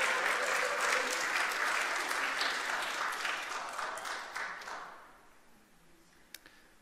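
A church congregation applauds during a Korean church general assembly, dense clapping at moderate volume that thins out and fades away toward the end, leaving near silence with a single late clap.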